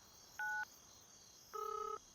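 A telephone number is dialed, producing short DTMF keypad tones: one isolated beep, then a longer tone run and the start of another, clear and alone against a quiet background.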